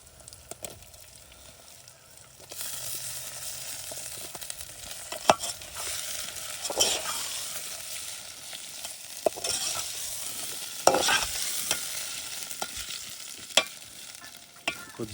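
Potatoes fry in a pan for a potato and brinjal curry, starting after a quiet moment and then giving a steady sizzle with scattered clinks and scrapes of stirring.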